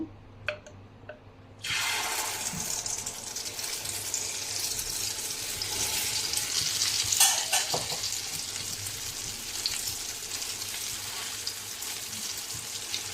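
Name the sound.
masala egg omelette frying in oil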